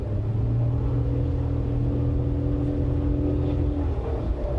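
Droning engine note of a Toyota Yaris X under acceleration, heard from the cabin as a steady, strained rise in revs with constant road rumble and no talk over it.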